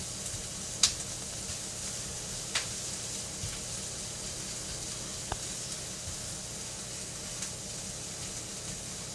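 Butter and olive oil sizzle softly and steadily in a pan, with a few faint clicks of a utensil stirring, no voices.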